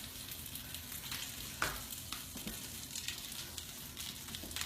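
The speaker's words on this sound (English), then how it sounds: "You should be able to hear them sizzling away over there." Food brushed with olive oil sizzling on an outdoor grill, a faint, steady crackling hiss heard from a distance with a few soft pops and no talking.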